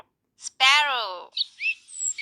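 A sparrow chirping: one long bright harmonic call followed by a few short high tweets, close and clear, with no talk over it.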